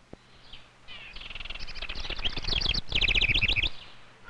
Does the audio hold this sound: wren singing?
yes